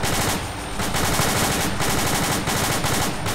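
Aircraft machine guns firing in an air combat video game, a continuous loud rapid rattle of shots for several seconds, close and dense, with no talk.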